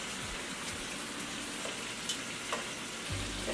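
Small lamb pieces fry in oil on a stovetop with a soft, continuous sizzle and a few scattered pops and spatters, close and fairly quiet.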